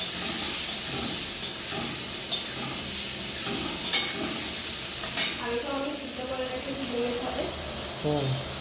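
Eggs fry lightly in a pan with a continuous close sizzle and intermittent stirring clinks, with a brief bit of talk near the end.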